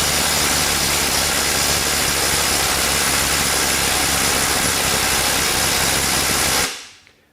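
A Skil IW5744 PWRCore 12V impact wrench with a fresh battery swapped in, trying and failing to break a lug nut loose, hammering in one loud continuous close burst for several seconds before cutting off abruptly.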